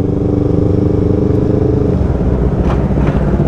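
Group of eight motorcycles riding out on a Sunday ride toward Kopeng, a loud steady engine rumble close by with some rattling and a brief flapping noise near the end, no talk.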